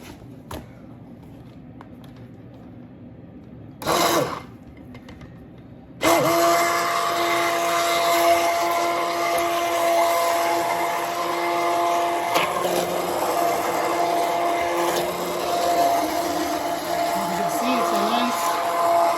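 A stick blender whirs into calendula soap batter, mixing it toward trace: after a short burst near the start, a loud continuous motor drone runs steadily close by, with a faint quiet stretch and no talk over it.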